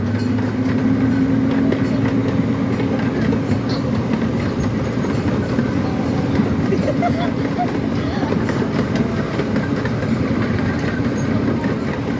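A zoo train accelerates uphill, rumbling steadily with a low engine drone and faint clattering of wheels, loud and continuous throughout, with voices murmuring underneath.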